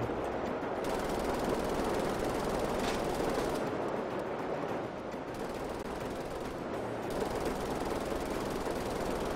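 A light machine gun in the shooter Wolfenstein: The New Order fires in long, continuous bursts with dense rapid rattling and only brief lulls, steady and close throughout.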